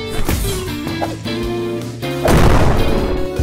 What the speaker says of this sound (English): those explosions are crazy.